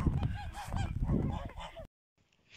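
Wild geese honk loudly and repeatedly in a noisy, overlapping chorus close by in a Siberian winter, then the sound cuts off abruptly, leaving a faint murmur.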